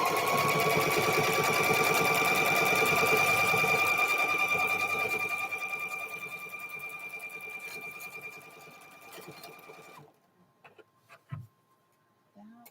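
A sewing machine stitches through a quilt in a fast, steady whirring chatter with a high mechanical whine, close and loud, gradually slowing and stopping, followed by a few quiet clicks and snips.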